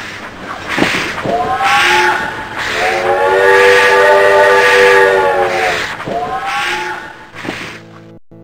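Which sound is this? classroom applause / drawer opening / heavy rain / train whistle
train whistle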